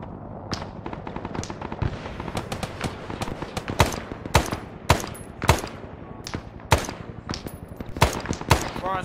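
Gunfire on a ridge line in the video game Arma 3, rapid bursts of machine-gun and rifle shots cracking at irregular intervals, loud and close.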